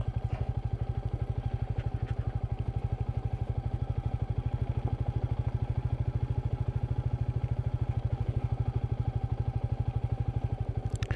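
Royal Enfield Meteor 350 motorcycle single-cylinder engine thumping steadily while riding off-road, a close, even pulsing beat held throughout with some clatter from the rough track.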